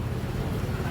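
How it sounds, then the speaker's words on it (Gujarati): Strong wind roars outdoors and buffets the microphone, a dense, low rumbling gust that fills the whole brief moment with no talk over it. "તો વાવાઝોડું ચડ્યું જો"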